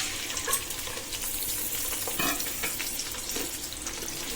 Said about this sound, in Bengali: এবার কেটে রাখা পেঁয়াজ রসুন কাঁচামরিচ আর গোটা মশলাগুলো দিয়ে দিচ্ছি।